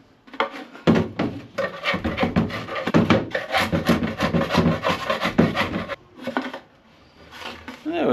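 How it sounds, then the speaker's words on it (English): Dried, solid glue being scraped off a poly beehive super, giving a series of close, rough rasping strokes in steady rhythm. The scraping stops near the end. "So I'll give it a bit of a scrape off, and then it should be good to go again."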